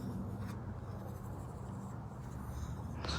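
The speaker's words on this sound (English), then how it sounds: "I'm going to create another circle, and this is where I'm going to write my categories in" Pen scratching across paper while drawing a circle, a faint continuous scratchy stroke over soft room hiss, close and quiet.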